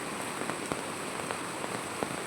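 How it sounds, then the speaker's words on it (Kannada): Steady heavy rain pours down in a village, a dense even hiss with scattered close drops tapping, continuous and fairly loud with no voices. "ಇವತ್ತು ಫುಲ್ಲು ಮಳೆ, ಇಡೀ ದಿನ ಮಳೆ ಬರ್ತಾ ಉಂಟು"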